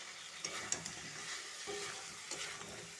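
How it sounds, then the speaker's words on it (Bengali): Country chicken pieces and potatoes sauté in a pan with a steady close sizzle, broken by a few sharp scrapes and clicks of a spoon stirring, no voices. "ভালোভাবে আমি আলু আর মাংস ভালোভাবে কষে নিচ্ছি।"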